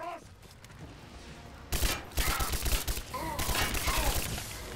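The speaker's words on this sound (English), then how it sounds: "Someone's shooting at me." Enemy gunfire in Rise of the Tomb Raider: a dense, loud fusillade of rapid shots bursting in after a quiet start, continuing in clustered volleys to the end with game sounds mixed in.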